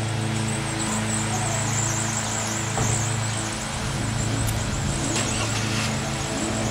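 A car near a house runs with a steady, loud engine rumble that holds close and even throughout, without fading, over a constant background hiss.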